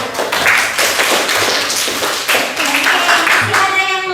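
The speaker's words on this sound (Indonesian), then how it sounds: "Mantap, tepuk tangan." An audience claps at a practice session, with dense overlapping hand claps close and moderately loud and some talk mixed in.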